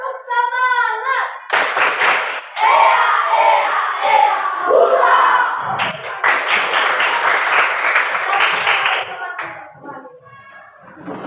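A classroom group performs the tepuk semangat clapping chant, loud rhythmic hand claps mixed with shouted voices over several seconds, fading toward the end.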